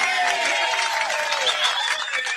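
Audience applause for Ana Tereza, a dense continuous patter of clapping mixed with crowd voices and chatter, fairly loud and steady throughout.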